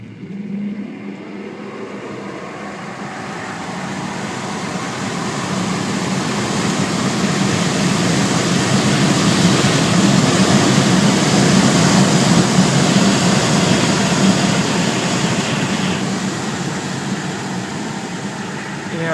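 A Tesla Model S P85 accelerating hard from 0 to 110, heard from inside as a rising electric whine over loud road and wind roar that swells and holds, with speech and light cabin noise.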